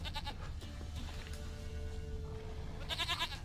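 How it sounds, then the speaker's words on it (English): A goat bleats in The Witcher 3 game: a couple of short, nasal bleats, fairly quiet and nearby, over a low background hum. "Here, goat."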